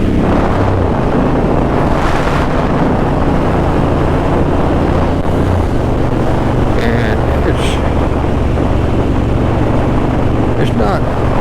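A Harley-Davidson Sportster S running with its exhaust baffles removed, a steady loud low rumble throughout under heavy wind buffeting while riding.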